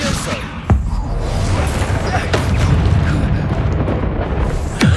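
The Expulso explosion spell goes off in the video game Hogwarts Legacy as loud, close booming blasts over a rumbling battle ambience, while a voice calls out spell names.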